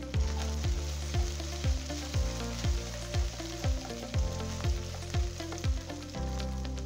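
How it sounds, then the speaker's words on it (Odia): Onion with ginger garlic paste and turmeric frying in a pan, a soft continuous sizzle with about a dozen regular spoon knocks against the pan as it is stirred, steady and close, with no talk. "ଜିଞ୍ଜର ଗାର୍ଲିକ୍ ପେଷ୍ଟ ପକାଇବା ଆଉ ଅନିଅନ୍ ସହିତ ମିଶାଇକି ଭଲ ଭାବେ ଭାଜିଦେବା"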